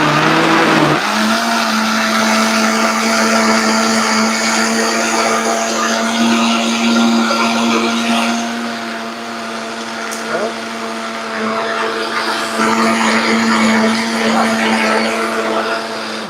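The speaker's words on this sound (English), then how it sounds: "All right, let's see if this thing blends." A blender whirs continuously and loudly throughout, churning a thick drink at a steady pitch with no pauses.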